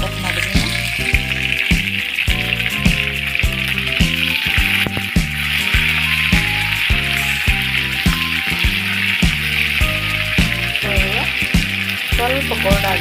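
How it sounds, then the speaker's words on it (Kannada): Sliced onions and curry leaves frying in hot oil, a loud, dense, continuous sizzle close by, with background music playing throughout. "ಕಂದು ಬಣ್ಣ ಬರೋವರೆಗೆ ಸ್ವಲ್ಪ ಇದು ಫ್ರೈ ಮಾಡ್ಕೊಳ್ಳೋಣ."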